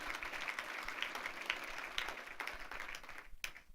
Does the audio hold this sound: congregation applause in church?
yes